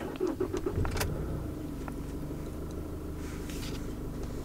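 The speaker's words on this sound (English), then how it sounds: "This is me turning on the truck." A 2017 GMC Canyon Denali diesel pickup starts up, a short crank and clatter giving way to a steady, close low engine rumble heard from inside the quiet cab, with faint keys jingling at the start.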